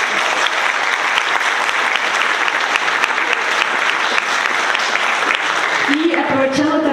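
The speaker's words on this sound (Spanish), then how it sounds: "Un aplauso, por favor, para Geli." Dense, loud audience applause at a talk on economics and feminism, sustained clapping from a large crowd that fades near the end as a voice starts speaking over it.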